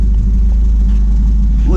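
Engine of a 1992–96 Honda Prelude revving with only part of its exhaust fitted, a loud continuous low rumble that holds steady throughout.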